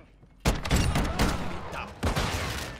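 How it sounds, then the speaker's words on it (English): Call of Duty gunfire, a loud close burst of rapid automatic shots followed by a second volley, dense and continuous. "Taking fire."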